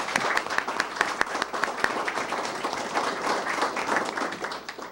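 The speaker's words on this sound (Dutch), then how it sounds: "En hij verdient de applaus." Applause from a crowd at a medal celebration, with distinct sharp claps standing out from a dense, lively wash of clapping that runs throughout.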